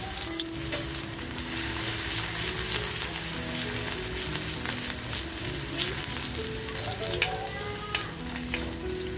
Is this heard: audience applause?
no